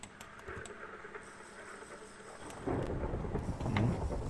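A thunderstorm in the video game Minecraft, with steady soft rain patter and a low rumbling roll of thunder swelling in the second half, no voices.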